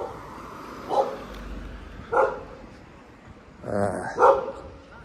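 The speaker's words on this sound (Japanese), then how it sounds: "犬です。" A guard dog at a residence in Brazil barks from some distance during a street walk, four or five separate woofs spaced about a second apart, clear above faint outdoor background.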